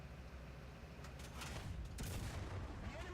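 Tank cannon fire in War Thunder, with early German tanks like the Panzer I and II in play, booming as a short burst of heavy shots over a steady battle rumble.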